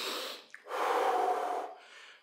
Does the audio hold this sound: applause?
no